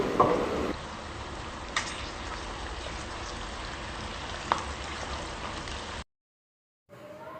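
Carrots, peas and capsicum fry in a pan with a steady broadband sizzle, a couple of brief clatters breaking through near the start and middle, then the hiss cuts off abruptly before a short return.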